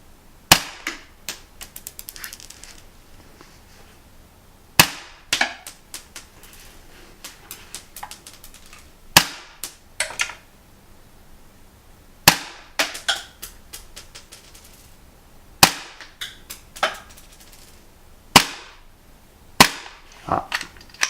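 A Marushin CZ75 gas airsoft pistol fires single sharp cracks at irregular intervals, some in quick pairs, with ejected casings tinkling and clattering onto a hard surface between shots.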